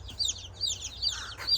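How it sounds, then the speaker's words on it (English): Silkie hens cluck softly in short repeated bursts, fairly close, with a steady low hum underneath and no talking. "It's another Silkie chicken."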